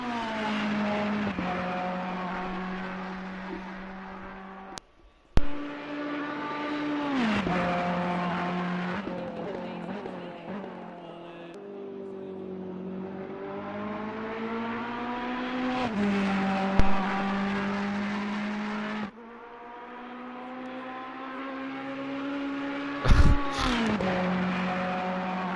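A Ferrari GT3 race car at Monza in a racing video game: its engine revs loud and steady, rising and falling through gear changes across the lap, under a commentator talking.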